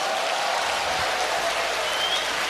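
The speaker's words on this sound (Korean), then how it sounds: "박수를 그분께 올리세요." Congregation at a church prayer meeting applauding, a broad steady wash of clapping from a large crowd, loud and continuous throughout.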